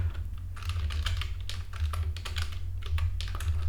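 Steady, rapid typing on a computer keyboard while building an e-commerce website, the clicks close and continuous throughout with short bursts and brief pauses.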